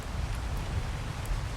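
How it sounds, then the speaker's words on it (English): Rain falling in a video game as a steady hiss of drops with a low rumbling wash beneath, constant and fairly close. "I think the rain's stopping."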